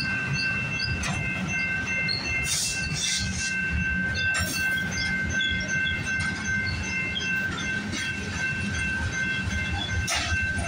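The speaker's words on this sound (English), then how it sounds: "Got a local train." A local freight train heading into a rail yard rolls along the tracks on a summer night, with steady rumbling wheel and car noise throughout, occasional squeals and clanks, and no talking.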